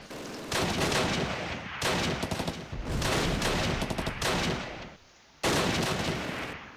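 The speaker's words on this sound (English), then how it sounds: "And they've got a machine gun." Sustained machine gun fire in the wartime strategy game Close Combat: Last Stand Arnhem, long loud bursts of rapid shots broken by short pauses, with no voices.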